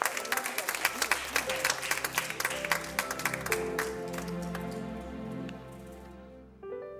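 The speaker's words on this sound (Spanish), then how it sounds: "¡Un aplauso!" Studio audience on a Spanish television show clapping for a guest, a burst of applause that fades out, then musical tones and sustained notes take over as the clapping thins.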